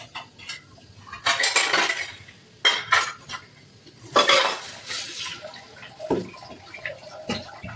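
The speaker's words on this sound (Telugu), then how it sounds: "ఇప్పుడైతే ఈ గిన్నెలన్నీ క్లీనింగ్ కోసం సింక్లో వేద్దాం." Metal cooking bowls dropped and stacked into a kitchen sink for washing, bursts of clattering and ringing clanks separated by short pauses, close and fairly loud, with a trickle of water beneath.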